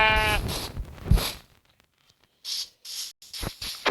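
Sheep in the Minecraft video game bleat in short wavering calls, one at the start and another about a second later, followed by a quiet gap and then bursts of hissy game noise.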